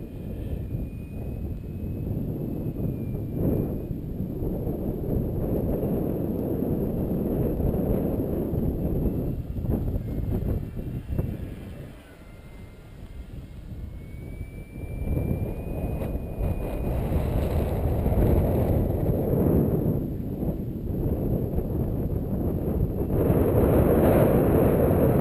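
Stiff gusty wind buffets a microphone outdoors at a model airplane flying field, producing a loud, continuous low rumble that surges and eases, with a faint high engine whine of an aircraft above.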